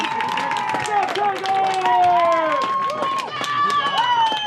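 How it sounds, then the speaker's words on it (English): Spectators cheer from the sidelines of a girls' high school soccer game after a goal, with a steady outdoor crowd roar, whistles and shouts overlapping an announcer's voice throughout. "You can hear the crowd."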